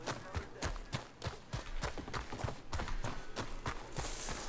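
Horse hooves clip-clop in the video game Red Dead Redemption 2, a quick steady run of hoof strikes over a continuous bed of game noise, fairly quiet.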